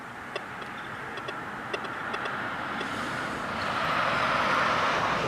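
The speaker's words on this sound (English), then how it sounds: "got a car coming by here" A car passes on a road outdoors while a metal detector beeps in short tones, the broad rushing noise swelling steadily louder as the vehicle draws near.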